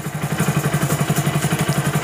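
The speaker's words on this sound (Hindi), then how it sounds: "बाइक जो है प्रॉपर रेस ले रही है।" A BS6 Hero HF 100 motorcycle runs after a fuel-pipe repair. The single-cylinder engine thumps close and loud in an even, rapid rhythm, and the revs stay steady.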